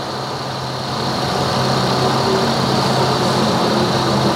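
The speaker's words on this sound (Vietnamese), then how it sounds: "Máy nổ khá là êm" Engine of a 2007 Toyota Innova G idling, a steady low hum with a smooth even tone and faint tonal whine, heard close and alone with no talk, the level rising slightly after the first second.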